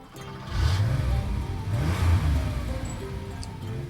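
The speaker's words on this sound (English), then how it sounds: "Car." A car engine revs and accelerates in two rising surges, a low throaty growl that is fairly close and moderately loud, with a steady background hum between pushes.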